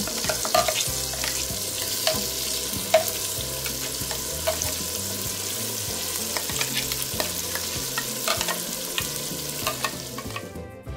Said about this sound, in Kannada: ಈಗ ಇದನ್ನು ಸರಿಯಾಗಿ ಮಿಕ್ಸ್ ಮಾಡುವ ನಾವು. ಮಸಾಲ ಸರಿಯಾಗಿ ಎಣ್ಣೆಯಲ್ಲಿ ಫ್ರೈ ಆಗಬೇಕು.